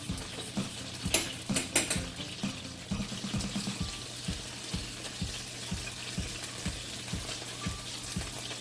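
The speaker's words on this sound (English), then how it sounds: "Stir up the sauce" Meatballs are stirred into pasta sauce in a pot for spaghetti and meatballs, a spoon scraping and clinking in a slow regular rhythm against a soft simmering bubble, close and fairly quiet.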